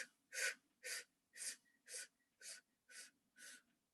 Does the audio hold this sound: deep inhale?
yes